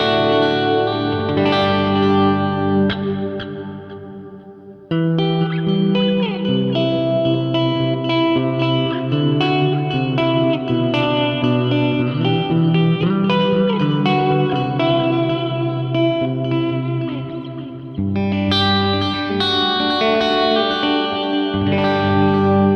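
Electric guitar chords and melodic lines ring out with lingering echoes and a wash of reverb, each phrase trailing off into repeating tails.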